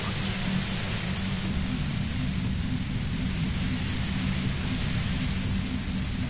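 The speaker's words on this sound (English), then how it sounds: "The violet-white noise becomes even more overwhelming closer to the compressor." Steady, droning broadband white noise near a compressor in the video game Disco Elysium, a dense unbroken hiss with a low rumbling hum underneath, constant and loud throughout with no voices.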